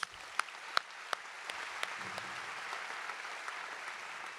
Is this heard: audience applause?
yes